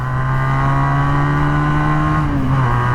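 A Regal Raptor Pilder 250 motorcycle engine revs with the throttle opened, a loud, steady, close-up engine drone that holds its pitch and then dips briefly near the end.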